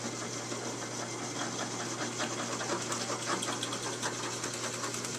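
A power drill bit grinds down the seam of a homemade cod and mackerel fishing jig mold, a steady close whirring hum with a gritty cutting rasp throughout and no talk.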